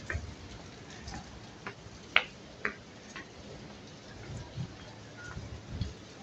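Rain falls outdoors as a soft, steady hiss, with scattered drops ticking sharply on a nearby surface at irregular moments; the whole scene is faint.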